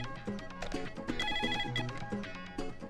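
A landline telephone rings steadily in a comedy scene, its electronic bell repeating in a continuous, fairly loud pattern that fills the short stretch with no talking over it.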